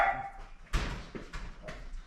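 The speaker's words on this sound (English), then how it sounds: "I'll let the dog out. He's having a fit over here." An agitated dog indoors gives a few muffled barks and whimpers, eager to be let outside. The sounds are faint and intermittent, coming in short bursts over low background noise, with no talk.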